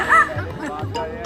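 A talking parrot imitates a dog's bark, giving a couple of short, nasal woof-like calls close up with a brief squawk and some background chatter.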